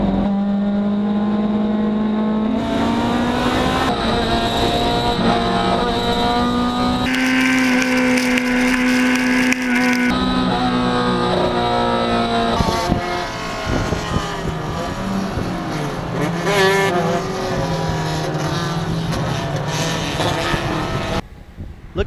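Race cars in a wet race at Mid-Ohio Sports Car Course, engines screaming loud and close with rising and falling revs and gear changes as several cars pass in quick succession, continuous throughout.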